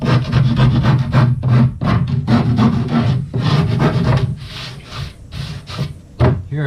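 Continuous close rubbing and scraping of sandpaper along the edges of wooden boards for a rustic accent wall, a steady rasp with short breaks between strokes and no talking.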